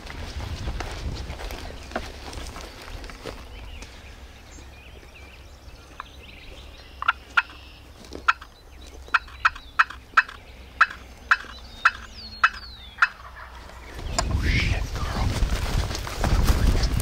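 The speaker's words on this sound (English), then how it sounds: "we had a bird gobble to us on our way out, so we're gonna see if we can't get him fired up and get him in here." A wild turkey gobbles from a distance outdoors near a food plot, a rapid burst of sharp repeated calls standing out over quiet woodland ambience, with muffled rustling and movement close by.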